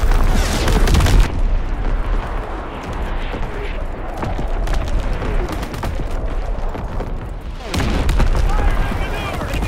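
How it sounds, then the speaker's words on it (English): Incoming enemy artillery in Call of Duty WW2 lands as loud booming explosions at the start and near the end, with rumbling battle noise and voices in between. "Incoming enemy artillery!"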